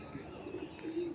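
A pigeon gives a soft, low coo close by, a brief murmuring call over faint background noise.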